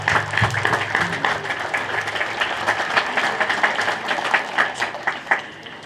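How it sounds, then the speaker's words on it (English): Audience applause at an 8th grade recognition evening, steady dense clapping from a crowd of families that holds for several seconds before thinning out. "let's give your families a round of applause."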